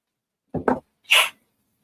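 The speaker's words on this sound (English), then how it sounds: "You sneeze. Bless you." A single close, loud human sneeze: a short two-part intake followed by a sharp burst, alone in silence.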